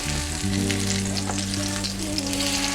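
Eggplant for Filipino tortang talong fries in a pan with a steady, close hiss of sizzling oil and faint stirring, no voices over it.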